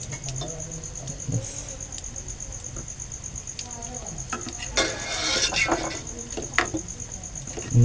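Bhaji (kulu bhaji) batter frying in hot oil, a steady close sizzle with occasional stirring and utensil clinks, growing busier and louder midway as more batter goes in.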